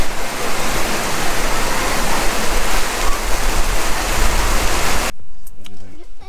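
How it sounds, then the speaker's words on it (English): Dense, steady roar of heavy rain pouring down during a thunderstorm, cutting off abruptly near the end to a quiet space with faint movement. "Just got interrupted by a thunderstorm."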